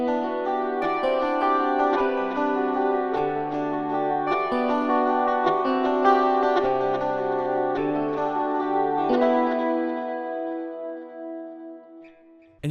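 Clean electric guitar from an 8Dio sample library plays a gentle, warm solo melody of sustained notes with soft chordal support, fading out near the end, with no talking.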